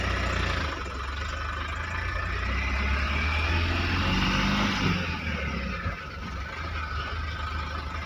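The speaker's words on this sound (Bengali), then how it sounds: "আর ইঞ্জিনের সাউন্ডটা তোমরা শুনতে পাচ্ছ।" A Tata Intra V10 pickup truck engine runs in first gear with a steady low rumble and a slight rise in pitch midway, heard close and continuous.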